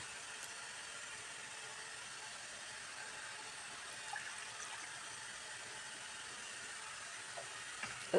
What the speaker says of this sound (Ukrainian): Далі засипаю рисом і заливаю водою.